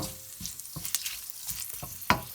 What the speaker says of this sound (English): I'll let that sizzle for a slight bit.